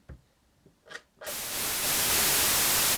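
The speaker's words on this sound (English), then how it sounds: "now we want to turn up this noise oscillator in the top left" A few faint clicks, then a loud hiss from the noise oscillator of a Synthstrom Deluge rises in and holds steady, broad and static-like, ending abruptly.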